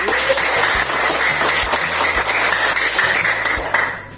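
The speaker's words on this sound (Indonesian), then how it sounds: "Untuk itu kita berikan tepuk tangan untuk kita semuanya." Students in a classroom applaud together, a loud dense wash of clapping that holds steady for several seconds and then fades quickly at the end.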